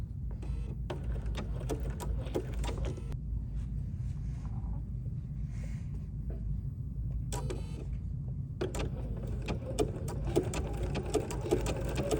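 Sewing machine stitching appliqué for a quilted sign, a low steady motor hum with bursts of rapid needle clatter, briefly pausing midway before resuming, no talking.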